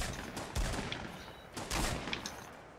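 Gunfire in a Fortnite battle royale match, faint distant bursts of shots with two stronger clusters over a steady background wash.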